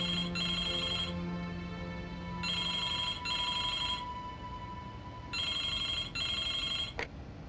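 In the Broken Sword II adventure game, a telephone rings repeatedly: three double-burst electronic trills with pauses between, loud and near, over quiet ambient hum, ending with a short click.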